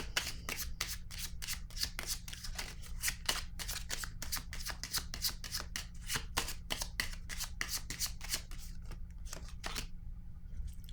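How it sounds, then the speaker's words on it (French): Tarot cards are shuffled in a fast, steady riffle of crisp flicking snaps, close and fairly quiet, running continuously before thinning out near the end. "Allons-y, je vais piger une carte."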